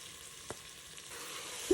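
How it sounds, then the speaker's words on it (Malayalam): Ginger garlic paste with turmeric, chilli flakes and salt sizzling as it is stirred in a pan for beef olath, a soft steady fry hiss with a couple of brief scrapes, quiet and close. "മഞ്ഞൾപ്പൊടി, ചില്ലി ഫ്ലേക്സ്, ഉപ്പ് എല്ലാം ആഡ് ചെയ്തിട്ട് നല്ലോണം ഒന്നും കൂടെ വഴറ്റി കൊടുക്കാം"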